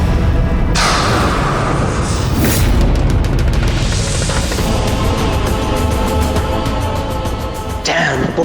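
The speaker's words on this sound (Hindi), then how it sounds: "तभी यह धमाका हुआ।" A loud explosion erupts amid dramatic drama-series sound design, with a sharp burst near the start, rumbling booms and debris-like crackle through the middle, and another hit near the end, all close and forceful.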